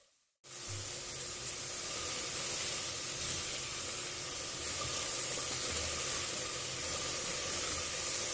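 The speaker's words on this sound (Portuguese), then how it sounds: "Então, comecei refogando a cenoura." Carrot sautés in a hot pan, a loud, steady sizzling hiss that starts abruptly and holds level to the end.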